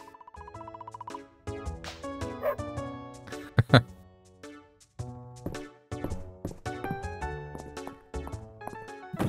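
Short, chirpy dog barks from the farming video game Fields of Mistria sound among bright, tonal game music and effects, with a voice talking over parts of it.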